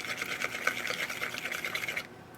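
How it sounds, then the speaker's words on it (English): A whisk beats an egg into heavy cream in a small well inside a bowl for keto biscuits, making quick, even, rhythmic ticking strokes that stay soft and close before stopping. "just kind of whisk the egg right there in the heavy cream"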